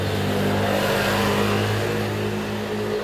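Motorcycle engine passing along a narrow old-town street, a loud, steady mid-pitched engine drone close by that holds for a few seconds with a slight rise in revs.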